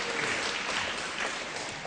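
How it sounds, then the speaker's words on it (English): Audience applause at an Oxford debate, a dense, even burst of clapping heard on its own for a couple of seconds. "Well, you've already earned your applause."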